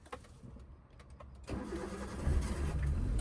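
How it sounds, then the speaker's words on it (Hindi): A car engine cranks briefly with the clutch pressed, catches and settles into a steady idle, loud and close inside the cabin. "वापस क्लच दबा के इंजन स्टार्ट करिए, हैंड ब्रेक मत हटाइए, क्लच दबा के इंजन ऑन करिए।"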